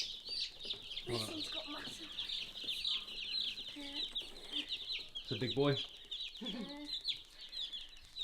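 Young meat chickens cheep and cluck in a brooder box, a steady high chatter running throughout while people talk nearby.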